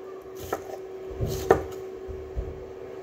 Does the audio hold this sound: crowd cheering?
no